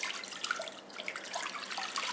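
Water poured into a cooking pot while making spinach paneer biryani, a fairly quiet, steady splashing trickle lasting a couple of seconds with no talking.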